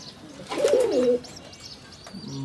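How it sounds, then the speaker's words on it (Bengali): Pigeons coo on a rooftop where they nest, a single low throaty burst in the middle, close and clear, with faint chirps above and a quiet ambient background. "তো তার আগে আমি আমাদের কবুতরগুলোও দেখাই।"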